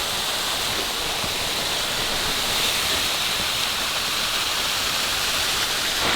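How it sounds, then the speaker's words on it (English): Close and steady, a Costa Rican waterfall rushes in a dense, bright roar of falling water that never changes in level, with no one talking. "This is one of many waterfalls here in Costa Rica,"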